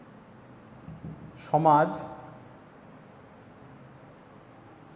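A teacher writes a question on a classroom board during a history lesson, giving faint scratchy strokes over a quiet room, with one short spoken word in the middle.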